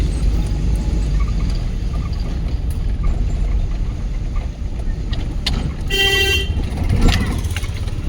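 A car horn sounds once in a short sustained honk during a driving lesson, over the loud steady rumble of the engine and road noise inside the vehicle.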